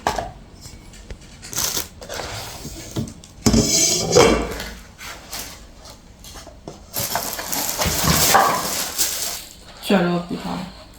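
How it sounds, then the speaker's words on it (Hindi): A frying pan and its lid are unpacked and handled, with rustling packaging, scraping and clanks of metal and glass coming in bursts while people talk over much of it. "ये फ्राई पैन विद लिड"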